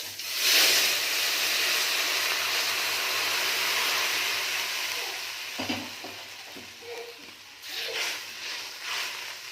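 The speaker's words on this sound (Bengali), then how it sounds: "এবার আমি জল দিচ্ছি। ফোড়ন থেকে খুব সুন্দর সেন্ট বেরিয়েছে। আমি কিন্তু গরম জলই দিচ্ছি টকে।" Hot water goes into a pan of sizzling spice tempering for a Bengali sour dish, giving a loud steaming hiss that swells at first, then settles into softer bubbling and sizzling with a few clinks.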